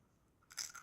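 Crusty cooked animal leg crunched between the teeth: a brief, close burst of crackling bites and chewing after a moment of quiet, faint overall.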